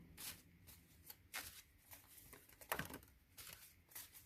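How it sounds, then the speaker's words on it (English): Egyptian tarot cards being shuffled by hand, a close, soft series of riffling flicks and slaps in irregular bursts, fairly quiet. "I'm going to do a little shuffle"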